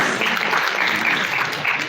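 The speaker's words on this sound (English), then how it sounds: "A huge round of applause" Dense, steady applause fills a conference hall as a speaker is welcomed at an Industry 4.0 India event, a brief continuous wash of many hands clapping.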